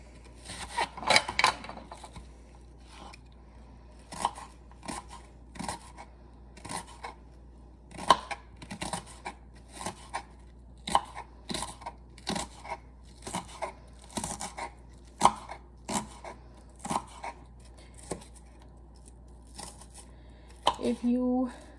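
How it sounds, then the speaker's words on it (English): Rapid, evenly spaced knife taps on a cutting board as an onion is chopped into small pieces, close and crisp, continuing throughout with only a faint background hum. "I'm just going to cut the onion into very small pieces"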